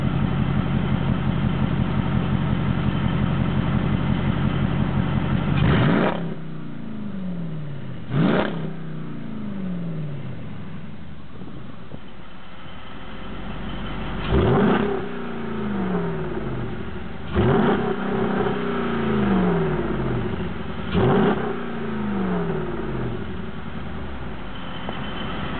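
Jeep Cherokee SRT8 V8 with an aftermarket muffler and open exhaust cutouts, revving sharply several times over a steady rumbling idle, each blip loud and close before falling back.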